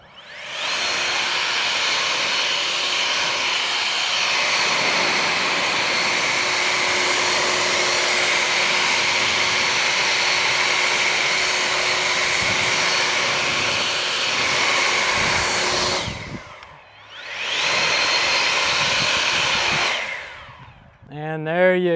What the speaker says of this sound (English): Let's give it a blow dry.